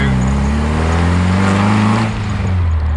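A Midget sports car fitted with a K series engine drives along, its engine droning loud and steady from inside the car with a slight dip in pitch near the end. No one speaks.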